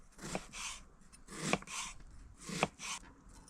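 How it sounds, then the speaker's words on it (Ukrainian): Three sharp knife chops through an onion on a cutting board, cutting half rings, spaced about a second apart, each followed by a brief scrape, close and fairly loud. "чищу і нарізатиму цибулю для основного маринаду"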